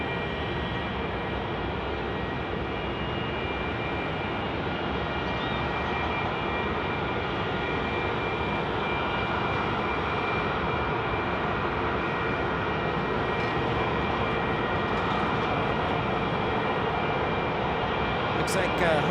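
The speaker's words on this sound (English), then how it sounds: "We've got a 757 pushing back." A Boeing 757 jet pushes back at Phoenix Sky Harbor Airport, its engines producing a steady, broad roar and whine that holds constant throughout at a moderate distance, with faint background activity.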